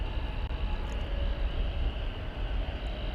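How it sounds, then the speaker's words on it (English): An Atlas Air cargo plane taxis across the taxiway bridge at DFW Airport, a steady low engine rumble with a broad whine, heard from a distance throughout. "that ghost plane is on its way across the bridge to the east side. That Atlas Air cargo."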